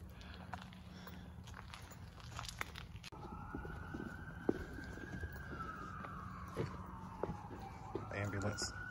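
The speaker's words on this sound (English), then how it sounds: "Ambulance, not the police." A distant ambulance siren wails in a long, slow rising and falling tone outside an abandoned mall, faint behind footsteps and people talking nearby.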